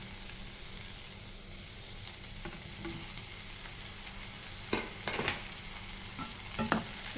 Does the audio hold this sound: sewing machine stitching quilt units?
no